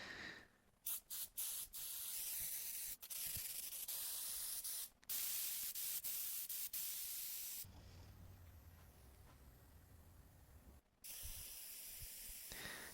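Contact adhesive sprayed from a can onto a car headliner panel and its fabric underside: close, loud hissing bursts of varying length separated by short pauses, with one longer quieter stretch.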